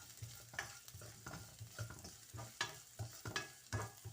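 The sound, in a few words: garlic cloves frying in oil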